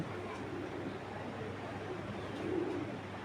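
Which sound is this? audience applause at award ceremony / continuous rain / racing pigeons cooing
racing pigeons cooing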